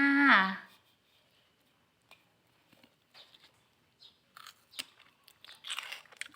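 Homemade pickled mustard greens are bitten and chewed, giving faint scattered crunches and wet chewing clicks after a short vocal sound at the start.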